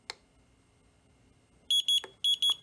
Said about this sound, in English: if it double beeps like it did right now, it is set to the D16 protocol